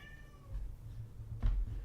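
A cat meows during a scuffle with another pet indoors, giving a short, close yowl followed moments later by a second louder cry, with no talk over it.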